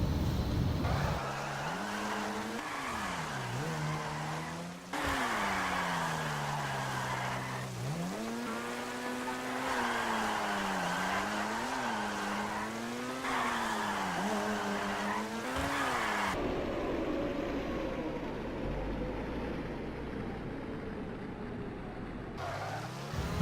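A Grotti Itali GTO all-wheel-drive sports car sliding around in GTA 5, its engine droning and rising and falling steadily with tire squeal, loud and continuous throughout.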